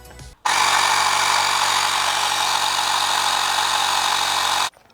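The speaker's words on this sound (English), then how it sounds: "I'm gonna pump some air into the tube" A pump inflates a bicycle inner tube during a 2007 Kona Cowlier Deluxe mountain bike e-bike conversion, giving a loud, steady electric whine that starts abruptly, runs unbroken for about four seconds, then cuts off.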